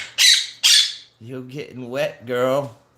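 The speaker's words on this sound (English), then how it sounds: "So, you notice that she's chirping, right?" A pet bird bathing under a shower head gives two sharp squawks, then a run of chirpy, tonal calls that rise and fall, close and loud.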